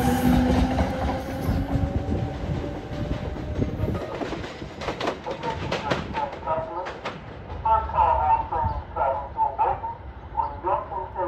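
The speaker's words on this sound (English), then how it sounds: "I have felt so lucky when I saw this train." A New Jersey Transit train passes on the Gladstone Branch, rumbling and clattering steadily throughout, with sharp rail clicks and a dog barking in the background.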